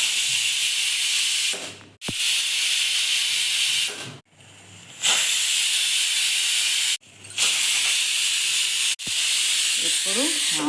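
Steam hisses loudly from a pressure cooker on a stove, in long bursts of roughly two seconds separated by short gaps, a steady close hiss with brief pauses between releases.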